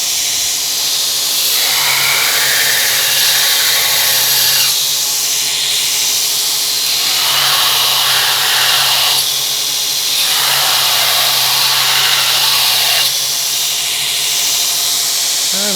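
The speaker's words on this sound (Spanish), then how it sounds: "fueron un par de segundos en el lijador" A power sander grinds loudly and continuously against Damascus steel, its harsh abrasive whine rising and easing in long strokes.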